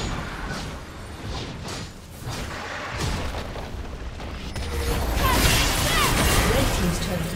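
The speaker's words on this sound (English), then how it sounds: "Blue team's turret has been destroyed." A League of Legends turret is destroyed, with heavy booming crashes and rumbling debris building louder toward the end, mixed with other game effects.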